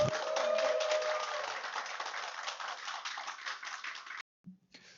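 An audience claps to welcome a professor to the stage at a seminar, with dense, fairly close applause that holds for about four seconds and then stops abruptly.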